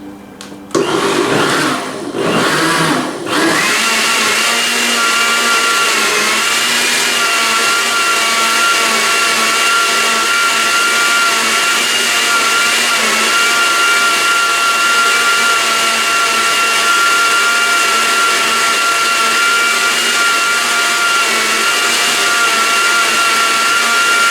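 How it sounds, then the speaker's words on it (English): Blender running continuously for morning juice, a loud steady whir that holds for over twenty seconds after a few seconds of rougher chopping as it starts. "I decided to do a little bit of a dance while the blender was doing its thing."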